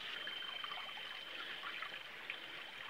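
Spring water trickles and flows among mountain rocks in the forested hills of Haripur, Hazara, Pakistan. A soft, steady close-up babble runs for a few seconds with no voices.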